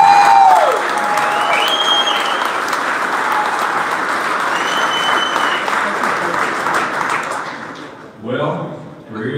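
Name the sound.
audience round of applause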